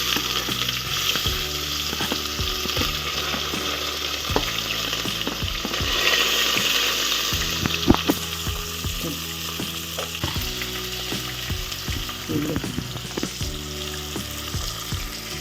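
Onions fry in hot oil with whole spices for egg biryani, making a loud, continuous crackling sizzle with occasional soft taps from stirring.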